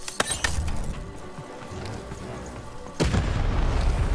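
A cannon fires in Lost in Random: a few sharp cracks early on, then a heavy booming blast around three seconds in that rolls into a sustained rumble, close and loud.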